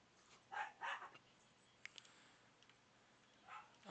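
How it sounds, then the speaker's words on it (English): Faint, distant dogs barking in a couple of quick bursts, then a few softer yips later, over quiet background ambience in Resident Evil 4. "I hear dogs bickering."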